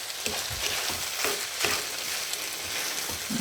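Turmeric coconut rice tossed and stir-fried in a pan, giving a steady close sizzle with scraping stirs and soft clatters throughout, no talking.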